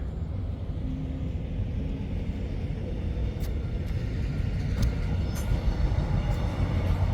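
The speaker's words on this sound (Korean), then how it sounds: "기차가 지나가고 있습니다." Train passing by near a cosmos and buckwheat flower festival grounds in Hadong Bukcheon, a steady low rumble of rolling railcars with faint metallic squeaks and clicks, continuous and fairly close.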